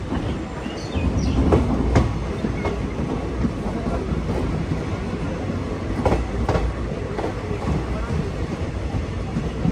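The Agartala Express runs on the rails between Nilam Bazar and Badarpur Junction, a steady loud rumble with rhythmic clicking of the wheels heard from inside the train, and voices faintly beneath.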